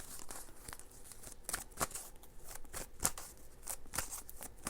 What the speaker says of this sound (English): I'm going to pull some oracle cards for how you can best develop this superpower or spiritual gift.